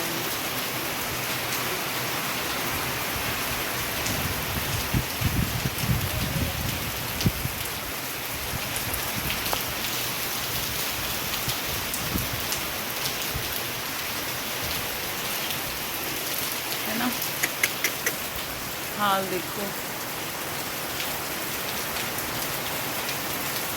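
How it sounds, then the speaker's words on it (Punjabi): Heavy rain falls steadily, a dense, even hiss of drops on surfaces with scattered louder splashes, while a voice briefly speaks over it. "ਬਹੁਤ ਜ਼ੋਰ ਨਾਲ ਮੀਂਹ ਪੈ ਰਿਹਾ ਬਹੁਤ ਜ਼ਿਆਦਾ ਜ਼ੋਰ ਨਾਲ ਹੈ"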